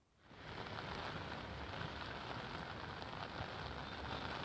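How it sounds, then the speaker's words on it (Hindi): Heavy rain pours steadily in Mumbai during a storm, a dense, continuous roar of drops hitting surfaces that rises within the first half second and holds loud and unbroken, with no voices. "आप एक बड़ा सा छाता लेकर खड़े हैं और बारिश की बहुत तेज आवाज आ रही है"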